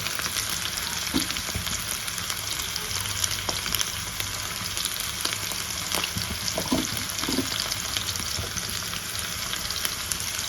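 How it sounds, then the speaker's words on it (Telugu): Chicken pieces frying in hot oil at home, a dense, even crackle and hiss that runs steadily throughout with faint occasional clicks, moderately loud and close, no talking. "సో చూసినారా, మన చికెన్ అయితే ఇక్కడ వేగుతుంది."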